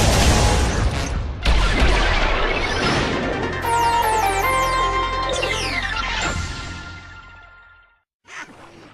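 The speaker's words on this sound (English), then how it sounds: "Use multiple frost cannons to unleash a devastating Arctic blast!" Loud video game effects from Ratchet & Clank: All 4 One, frost cannon blasts: a series of booming blasts and rushing whooshes with sweeping tones, cutting off briefly before another burst.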